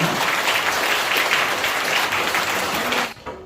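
Applause fills a church thanksgiving service for a pastor's retirement and installation, a dense, steady wash of many hands clapping at full strength for about three seconds before stopping abruptly.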